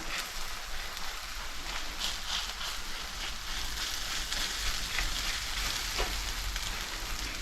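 Egg and rice being stirred while frying Chinese fried rice, a constant loud sizzle with soft scraping stir sounds throughout, close and uninterrupted.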